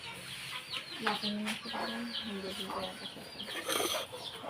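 Chickens cluck and chatter continuously, several birds close by, with faint background noise.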